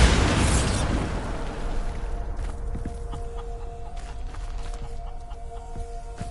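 A loud Bombarda spell explosion in Hogwarts Legacy bursts at the start and rumbles away over a couple of seconds, leaving scattered thuds, debris and footsteps against a quieter background with a faint sustained tone.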